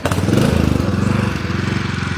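A portable RV generator is pull-started and its small engine catches at once, running with a close, steady, rapid putter throughout.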